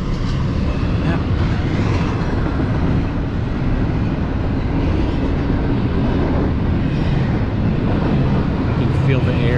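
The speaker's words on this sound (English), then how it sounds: "So that's an engine in the middle of the train." A long freight train rolls past close by with a locomotive placed mid-train, a steady loud rumble of wheels and cars throughout, with voices talking over it.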